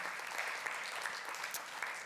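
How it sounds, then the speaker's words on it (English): Faint, distant applause from the audience at a conference on small and mid-size urban centres, a soft continuous patter of clapping over roughly two seconds. "Can we give applause?"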